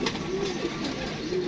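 Pigeons coo softly in a few low, rolling calls, a little distant, over a steady background hum.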